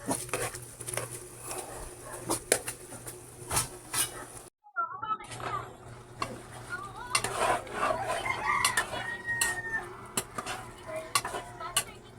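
Ground meat being stirred with quail eggs in a pan, with soft clinks of a utensil against the metal, light sizzling patter and scraping, a brief gap midway, then busier stirring with a voice talking at times.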